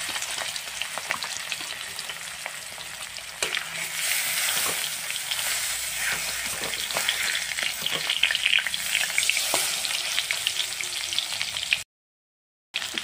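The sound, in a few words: fish pieces frying in hot oil in a wok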